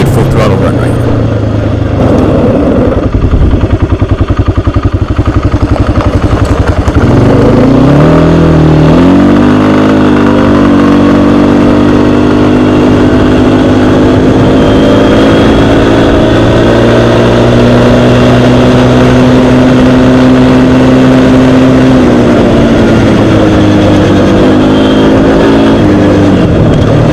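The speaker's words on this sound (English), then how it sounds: "Good full throttle run right here." Kawasaki Brute Force 300 ATV engine running at full throttle, loud and close, idling roughly at first, then revving up with a sharp rise in pitch and holding a strained, steady high drone with slight pitch wobbles.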